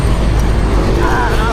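A large truck passes close on a road during a group bicycle ride near Intramuros, a heavy, loud engine and tyre roar that fills the moment under a rider's voice.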